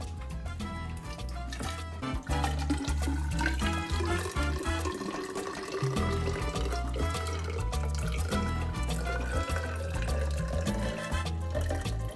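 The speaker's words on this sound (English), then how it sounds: "So we're gonna get our mono basic and pour" Monobasic phosphate solution being poured in a lab while mixing a phosphate-buffered saline, a continuous watery splashing and trickling that runs steadily for several seconds under background music.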